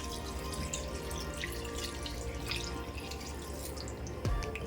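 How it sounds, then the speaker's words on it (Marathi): Water pours steadily into a pan of fenugreek greens in a continuous splashing rush, close by, with a brief louder slosh near the end. "भाजीत आता मी पाणी घालते"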